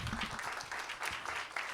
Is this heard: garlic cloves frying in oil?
no